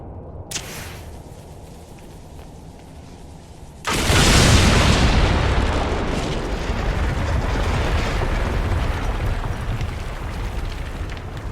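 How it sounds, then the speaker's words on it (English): A Gaatlok blast in Dragon Age: Trespasser erupts midway as a loud, sudden boom after a quieter stretch, then settles into a long rumbling roar. "Let's go explode some Gatlock."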